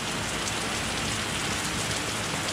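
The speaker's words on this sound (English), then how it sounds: "I hope this is the last of the rain." Steady rain pours down evenly and fills the whole stretch with dense hiss and patter, with no voices.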